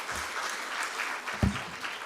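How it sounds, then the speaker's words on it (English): Brief audience applause at a World Food Safety Day event, a soft, steady smatter of clapping with one louder thump partway through. "when you're given information freely, you reciprocate with free claps"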